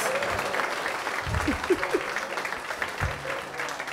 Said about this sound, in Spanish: Ese aplauso no es para nosotros.